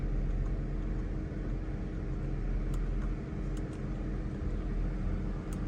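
Chrysler 300C with an overheating problem sitting at idle, a low, even engine rumble that holds steady throughout, heard close with no speech.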